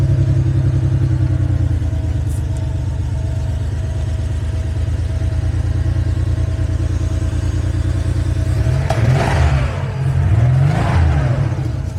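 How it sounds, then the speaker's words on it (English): A 1986 Porsche 911 Carrera engine idling nearby, a steady low throbbing hum that continues evenly, with two short blips of higher revving near the end. "otherwise it's idling really nicely. I like the way it sounds."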